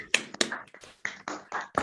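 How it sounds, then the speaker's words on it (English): A few students clap over an online call, sparse and uneven individual claps arriving in a loose irregular rhythm, thin and close-miked rather than a full crowd. "we would like to give you something you probably haven't heard for a while, which is a round of applause"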